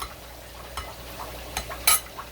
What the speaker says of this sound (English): Now I'm going to finish mixing my onions.